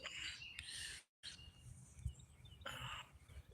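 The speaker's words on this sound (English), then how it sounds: "It was a bluebird." Bluebird chirps outdoors near backyard feeders, a few short bright calls scattered through quiet ambient noise with a brief dropout partway through.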